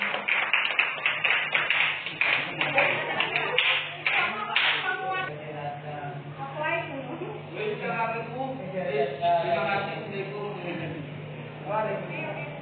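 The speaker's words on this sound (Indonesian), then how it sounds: "Beri tepuk tangan dulu ya Sarah." Classroom applause after a student's lesson presentation: brisk clapping near the start that thins out, with a teacher speaking over and after it.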